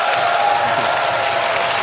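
Studio audience applause at a Dutch late-night talk show, a continuous broad wash of clapping from a crowd, steady and fairly loud throughout.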